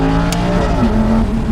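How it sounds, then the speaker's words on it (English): Loud, close engine of a 2007 sports car such as a Ferrari 430 Scuderia, Porsche 997 GT3 RS or Lamborghini Gallardo Superleggera, heard with windows down, a sustained growl with a pitch shift mid-way like a downshift. "Oh my God, the downshifts."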